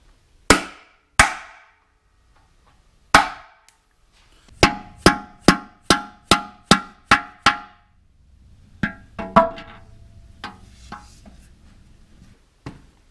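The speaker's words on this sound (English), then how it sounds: "Next step now, get these new races installed down in the transmission case." New bearing races are being driven into the transmission case of a Minneapolis-Moline 445 prototype tractor, heard as sharp metallic hammer blows. A few spaced strikes come first, then a quick run of about eight close, ringing hits, followed by softer clanks.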